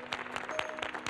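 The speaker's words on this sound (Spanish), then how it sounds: "¡Aplauso, por favor!" A small group in an office setting applauds, giving a quiet, brief burst of clapping with a few distinct claps standing out over a soft background.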